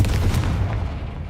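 A Confringo fire spell blast from Hogwarts Legacy lands as a deep, heavy boom that starts strong and slowly thins out over about a second, with no talking.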